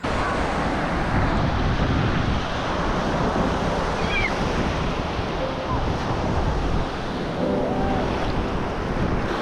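Steady, loud surf at an East Coast beach, waves rolling in continuously with wind buffeting the microphone throughout, no clear breaks between breakers.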